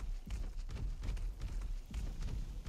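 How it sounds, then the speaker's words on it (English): Horse hooves clip-clopping at a run in the Scorched Earth video game, a steady repeated beat against a dense game background, with no talk over it. "Get rid of this stupid horse"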